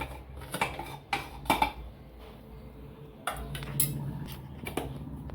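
Boiled pumpkin being lifted out of a pressure cooker pot for sweet pumpkin gharage, with several sharp metallic clinks and knocks of utensils against the pot, close and fairly quiet, spread through the moment.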